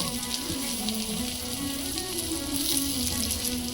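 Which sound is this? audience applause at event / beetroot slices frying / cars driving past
beetroot slices frying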